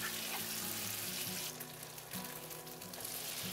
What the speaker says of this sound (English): We'll allow the tofu to crisp up and then flip it over